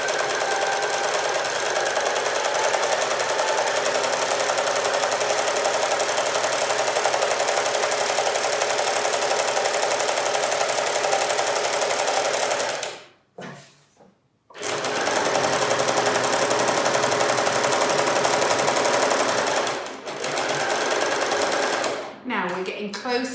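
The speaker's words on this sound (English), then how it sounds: "Do a few stitches forward and back" Sewing machine stitching a concealed zip into a cushion, running in steady continuous bursts forward and back with a few short pauses, loud and close, with no talk over it.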